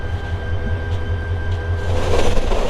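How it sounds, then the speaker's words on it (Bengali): Jayantika Express passenger train running at Sreemangal station, a steady loud rumble of wheels and carriages with a sustained whine, growing slightly louder toward the end. "আর এই যে আমাদের ট্রেন"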